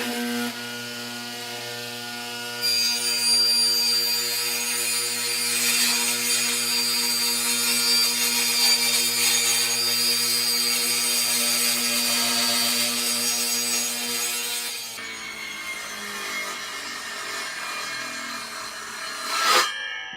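Sanding of wooden boards for bookshelves, a steady close abrasive rasp with a mechanical hum, continuing for about fifteen seconds before changing tone and tapering off.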